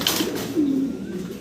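Shoukin pigeons give a soft, low coo near the middle over a faint background hum, a single drawn-out call heard close by.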